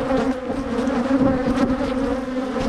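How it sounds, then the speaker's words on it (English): Honeybees swarm loudly around a starter hive box with a warped lid, a dense, steady buzzing drone that stays close and continuous throughout. "These bees can get out of here."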